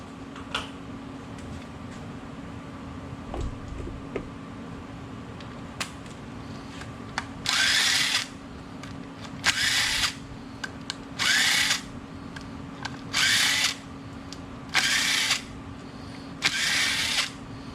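A power tool spins off 10mm bolts on the front wheel assembly of a 1983 Toyota Land Cruiser, six short, loud, evenly spaced bursts over a steady background hum.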